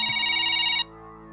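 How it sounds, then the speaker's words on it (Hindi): A telephone rings with a bright electronic trill. It is a single burst, loud and close, and it stops abruptly partway through. "एक जरूरी फोन आ गया"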